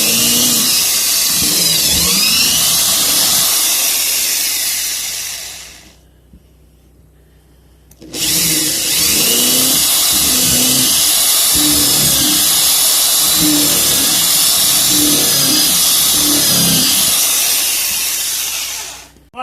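A power drill bores holes into a wooden tool block, a loud high whine with grinding bursts, stopping briefly in the middle before a second long run.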